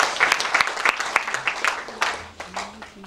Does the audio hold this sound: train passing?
no